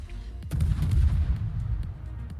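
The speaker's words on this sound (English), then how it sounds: "Attack aircraft coming in with rockets." Attack aircraft fire rockets at a ship in a naval video game: a sudden sharp launch crack is followed by a deep, rumbling roar of impacts and blasts that fades over about two seconds.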